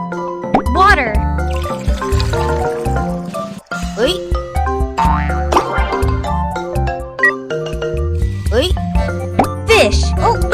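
A cartoon splash of water being poured into a pot to steam marinated fish in a kids' kitchen cooking game, short plopping and filling sounds over steady cheerful music.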